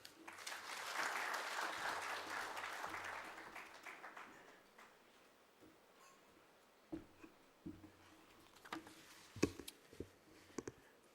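Applause from a plenary audience at an agriculture-sector conference after a keynote speech. It is soft and distant, thinning out over several seconds, followed by a few isolated taps and knocks in a quiet room.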